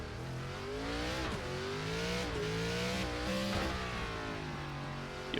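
Race car engine in an iRacing NASCAR ARCA car at Sonoma, holding a steady loud drone with pitch rising and falling through gear changes and revs, continuous throughout.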